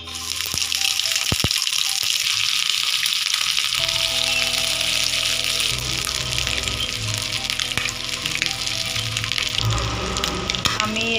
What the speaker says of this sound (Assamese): এতিয়া আমি টাৱাখনত দি দিম।